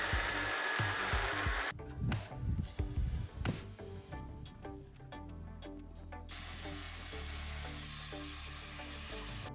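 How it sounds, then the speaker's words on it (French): A power tool cuts 7 cm off a metal tube for a homemade cantilever sliding gate, with a harsh grinding burst early on, then steadier whining cutting noise that runs on to the end. "Maintenant, je dois découper 7 cm de ce tube ici."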